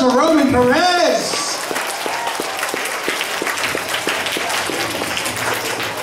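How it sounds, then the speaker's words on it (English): Applause at a 2014 school assembly at PS 119 for Roman Perez, a steady wash of clapping that follows a brief spoken call and continues under a faint background voice. "round of applause for Roman Perez!"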